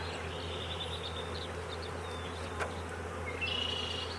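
Bees buzz around an open hive being smoked, a continuous close insect drone with individual wingbeats rising and fading over a low background hum.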